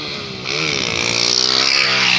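Motorcycle engines rev hard at a wheelie meetup, one bike climbing in pitch and holding a loud, close whine that swells toward the end.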